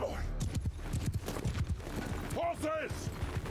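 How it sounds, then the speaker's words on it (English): Cavalry charging in the medieval battle game Mount & Blade II: Bannerlord: rapid hoofbeats drum close by amid a battle din, with a horse's whinny and a narrator talking over it. "Horses charge."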